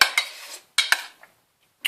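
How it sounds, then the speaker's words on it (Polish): Metal utensil clinks and scrapes against a pot while stirring meatballs, in a few short bursts separated by pauses, close by, with no talking. "I teraz je mieszamy"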